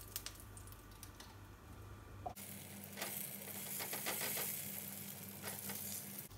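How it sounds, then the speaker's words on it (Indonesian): Shrimp paste (terasi) hits hot cooking oil in a wok, and after a quiet start a loud, crackling sizzle erupts and continues steadily with faint stirring, with no talk. "Kalau minyaknya sudah panas, masukkan terasi."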